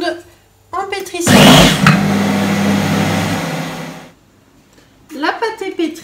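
A kitchen machine kneads dough for a spinach and feta tart, a loud, steady motor whir lasting about three seconds between stretches of talk.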